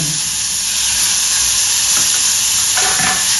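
Onion hitting a hot pan with tomato, a loud, dense, continuous sizzle and hiss close up, steady throughout with no talk.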